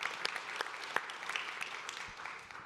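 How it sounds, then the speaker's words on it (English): Small business event audience clapping for a guest, light scattered claps from a modest group, fairly quiet and uneven, with individual hand claps standing out for a few seconds. "we can clap for Marcus again"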